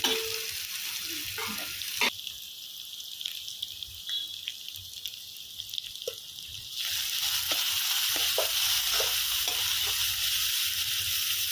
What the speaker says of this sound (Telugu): నేను ముందు ఆలు వేయించి 1 నిమిషం వేయించుకుంటాను